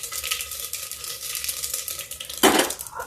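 Cumin and crushed carom seeds sizzle in hot oil with a steady, bright crackle, then a sudden louder burst of hissing near the end, close and without voices.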